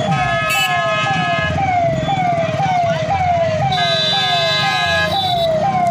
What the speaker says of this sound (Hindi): और तीसरा फायर ब्रिगेड आ गया यहाँ